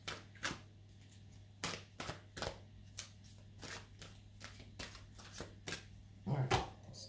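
Tarot cards shuffled by hand up close, sharp papery riffles and taps recurring every second or so over a faint constant hum, ending with a slightly louder cluster of handling noise.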